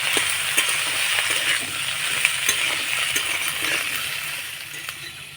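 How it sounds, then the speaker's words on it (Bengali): Carrot, capsicum and chopped green chilli being stirred and lightly fried in a pan for a paneer roll filling: a steady, close sizzle with small clicks from stirring and no talk. "সবজিগুলো নাড়াচাড়া করে হালকা ভাজা ভাজা করে নিয়েছি"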